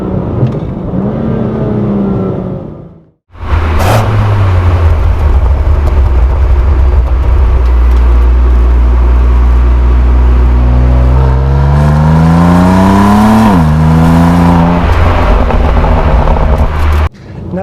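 A 2020 BMW M2 Competition with a twin-turbo straight-six and DCT gearbox revving hard, a loud close engine note climbing in pitch through the gears after a brief pause, sustained and droning.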